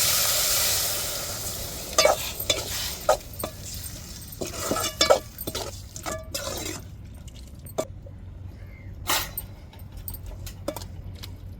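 Masi dried fish thokku sizzles in a pan and is stirred after water is added, giving a crackling hiss with scattered scraping and clinking spoon strokes, close and moderately loud, no voices.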